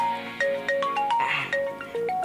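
A mobile phone rings with an incoming call, a repeating melodic ringtone of short bright tones in a steady pattern, fairly clear and close with no talking.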